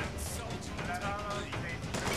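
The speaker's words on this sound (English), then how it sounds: "And I'm being shot at." Gunfire in the video game Bioshock Infinite sounds as a dense, continuous clatter of shots and impacts filling the short clip, loud and busy throughout with no clear gaps.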